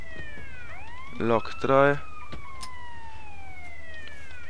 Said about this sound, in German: Ja, kannst die Sirene wieder ausmachen.